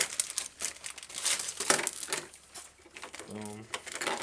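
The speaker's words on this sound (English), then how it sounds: "We'll actually start getting this stuff out of the plastic too." Crinkling plastic packaging as toy robot pieces are pulled out of their wrappers, sharp rustles and crackles in irregular bursts, close by, with a person talking intermittently.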